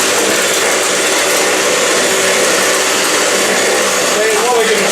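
An electric mixer whips cream at full power toward soft peaks for a white chocolate parfait, giving off a loud, steady motor whir with a rattling beater hiss that runs unbroken from start to finish.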